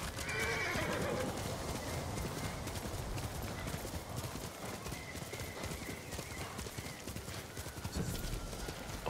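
A horse in Ghost of Tsushima gallops with rapid clip-clop hoofbeats and lets out a neigh near the start, all set against a dense game soundscape, loud and continuous.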